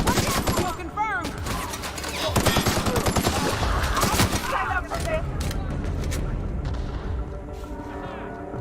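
Rapid gunfire rattles through a firefight in The Outer Worlds, dense bursts of automatic shots with booming impacts, loud and continuous, while voices shout over the din.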